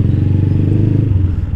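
A Rusi motorcycle engine with a fault idles close by, giving a steady low throbbing chug with rattling clatter throughout, alone without voices.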